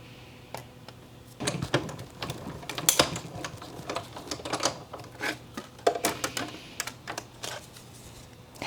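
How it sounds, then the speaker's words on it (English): Paper dinosaur shape being cut out for a handmade card, a series of small crisp snips and clicks at an irregular pace, close and fairly quiet. "Let's get our dinosaur cut out too."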